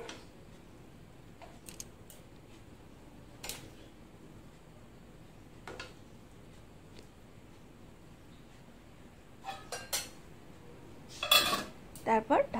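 Food for chilli chicken kofta being mixed in a pan, scattered metallic clinks and scrapes of a spoon against the pan over a quiet background, growing busier and louder toward the end.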